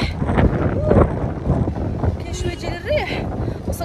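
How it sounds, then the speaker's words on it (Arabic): Gusty outdoor wind buffets the microphone with a steady low rumble throughout, and faint voices and whistly tones come through beneath it. "بعد ساعة ديال الطريق كاين شوية ديال الريح"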